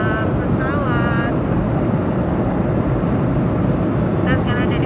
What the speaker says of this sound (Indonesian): sekarang kita ada di dalam pesawat